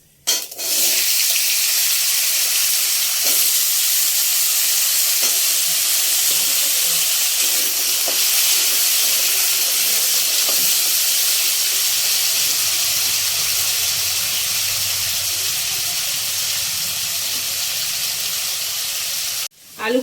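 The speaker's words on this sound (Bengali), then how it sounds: "মশলাটা ভালো করে ভাজা হয়ে গেছে। তেলে আলুগুলো দিয়ে দেবো।" Potatoes dropped into hot oil already spiced with five-spice, dried chilli and asafoetida, a loud continuous hiss and sizzle under faint talk, ending in a sudden clatter.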